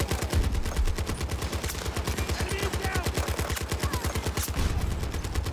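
Rapid sustained bursts of M60 machine gun fire in the shooter game Battlefield 2042, a fast steady rattle of shots running nearly throughout, with a voice talking faintly underneath.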